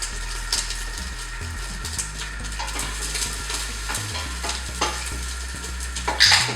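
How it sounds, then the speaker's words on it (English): Chopped onion cooks in a saucepan, giving a steady, close sizzle. A spoon stirs and scrapes at intervals, with a low hum running underneath throughout. "the onion has been cooking away nicely in both the Thermomix and in the saucepan"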